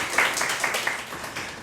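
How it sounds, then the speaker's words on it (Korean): A Korean church congregation claps briefly in encouragement for a high school senior, a short burst of scattered hand claps at moderate level with no voices. "우리 나연이 이제 얼마 남지 않았는데 잘 하라고 박수로 격려해 주시면"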